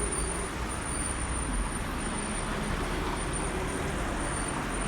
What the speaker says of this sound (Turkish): Gördüğünüz gibi arabalar geçiyor.